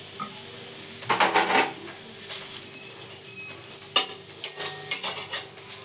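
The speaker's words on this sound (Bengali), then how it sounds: "নিম পাতাটা প্রথমেই ভেজে নেবো" Neem leaves fry in a wok with a soft, steady oil hiss, broken by two clusters of scraping, clattering stirs near the pan, the first around a second in and another toward the end.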